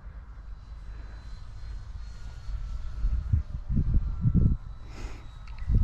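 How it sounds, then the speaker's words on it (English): A Turbo Timber Evo radio-controlled model airplane flies at a distance, its motor a low droning hum that swells louder in pulses toward the end, with some wind buffeting on the microphone. "Turbo Timber Evo. It's just a nice stable plane."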